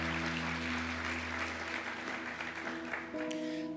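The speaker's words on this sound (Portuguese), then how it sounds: "Aplauda o Senhor Jesus por isso" A church congregation applauds steadily as a group, a continuous wash of clapping over a sustained organ or keyboard chord, with the chord shifting near the end.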